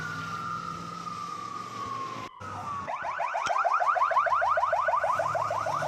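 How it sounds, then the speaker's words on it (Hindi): Ambulance sirens sound at the scene of an attack in Majdal, Lebanon: a long falling wail breaks off, then a fast, loud warbling yelp repeats steadily over street noise. "तो हर तरफ एम्बुलेंस की आवाज इस वक्त आपको सुनाई दे रही है।"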